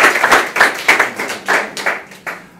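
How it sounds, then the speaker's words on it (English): A crowd claps steadily in a dense, rippling round of applause, fairly close and sustained, with no voices over it. "Please give Karen a round of applause."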